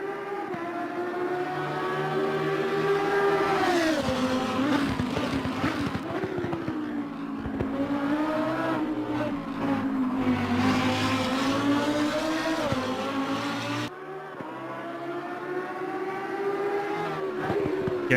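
A Lamborghini Huracan EVO2 GT3 race car in Assetto Corsa Competizione at Zolder or Zandvoort, its engine a loud, continuous racing whine that rises and falls through corners and exits, with a sharp gear change near the end and no voices.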